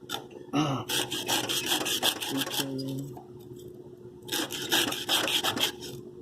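A knife is sharpened on a coarse 140 grit diamond, with bursts of rhythmic rasping strokes close up, a short pause in the middle, then another run of strokes.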